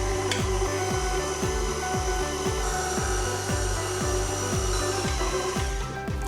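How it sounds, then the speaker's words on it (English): An electric stand mixer runs on low speed through Halloween sprinkle cake batter, a close steady motor hum with a regular rhythmic thump from the turning beater, loud and alone without talk. "And then we're going to give this a mix again just until it's all come together on a low speed."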